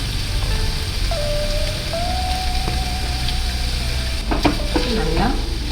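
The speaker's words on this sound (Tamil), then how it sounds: "கிளறிட்டு இன்னும் ஒரு அஞ்சு நிமிஷம் மூடி வச்சுக்கலாம்" Potatoes with chili powder stirred in a pan, a continuous frying sizzle with scraping stir noises and a few light utensil clinks toward the end, no talking.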